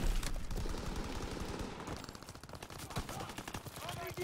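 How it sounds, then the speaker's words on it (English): Call of Duty: WW2 firefight: rapid automatic gunfire rattles in dense, close bursts from several directions, briefly thinning out before picking up again, with a voice talking over it. "bullets behind me, bullets in front of me"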